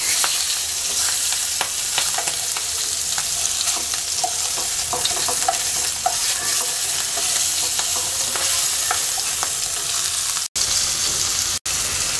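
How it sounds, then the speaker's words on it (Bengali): Hilsa fish pieces fry in hot oil, giving a dense, continuous close sizzle that holds steady throughout before cutting out briefly near the end; no voices are heard. "তেলটা গরম হয়ে গেছে, মাছ দিয়ে দিচ্ছি।"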